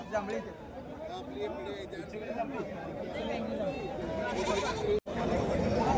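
Goats, including Osmanabadi goats, bleat repeatedly nearby amid a busy crowd at the Peth Vadgaon goat market, with people talking and chattering throughout.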